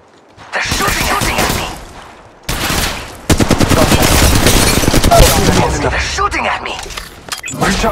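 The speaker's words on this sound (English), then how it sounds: "Taking fire! I am taking fire, friends." Gunfire in the mobile video game Apex Legends Mobile, loud bursts of rapid automatic shots cracking across several seconds, broken by a brief pause, with voice lines mixed in.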